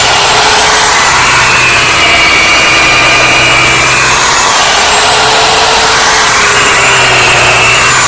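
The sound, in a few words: drilling holes in a tree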